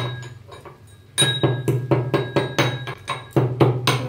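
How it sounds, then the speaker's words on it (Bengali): Whole cardamom and cinnamon are pounded into garam masala powder, giving a series of sharp, close knocks at an even rhythm after a quieter opening. "এবার এটা ভালো করে গুঁড়ো করে নিই।"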